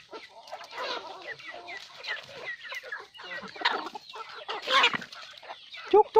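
Backyard hens cluck and chatter continuously at evening feeding, several birds close together in an overlapping, busy stream of calls.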